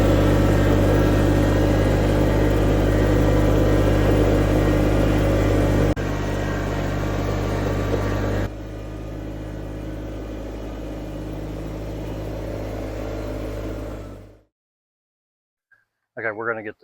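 A one-ton Ford F350 pickup idles with a steady, close, low rumble for about fourteen seconds before the engine cuts out, leaving a short clatter at the end.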